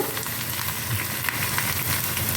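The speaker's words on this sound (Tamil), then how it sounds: "கொஞ்சமாக உப்பு போட்டு வறுக்க வேண்டியதான்" Grated coconut roasts with a little salt in a hot pan, a dense continuous crackling sizzle that holds steady and close throughout.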